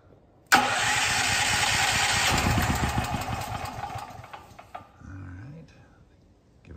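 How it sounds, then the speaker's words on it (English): A Firman tri-fuel generator set to LP with the choke in start position cranks for about three seconds: a sudden loud mechanical churning that runs steadily, then fades, followed by a short lower hum and quiet. "So now we're gonna go ahead and crank it for 3 seconds."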